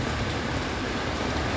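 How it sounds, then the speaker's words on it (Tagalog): Heavy rain pours steadily onto surfaces outside a restaurant, a dense, loud hiss with no pauses. "Ang lakas ng ulan, guys."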